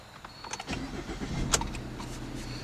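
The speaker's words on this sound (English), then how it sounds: "And you can hear a very quiet startup." A 2013 Ford Fusion SE 1.6-litre turbo engine cranks and catches, then settles into a soft, low idle, heard from inside at a quiet level.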